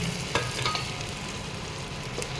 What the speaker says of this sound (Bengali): আজ একটু মটন কষানো হচ্ছে